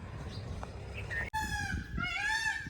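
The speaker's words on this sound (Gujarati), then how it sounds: "જો કેવો મસ્ત મોરલો બોલે સાંભળો" A peacock gives a loud, nasal wailing call in the second half, with harmonic calls rising and falling close by, after a quieter stretch of outdoor ambience with faint earlier cries.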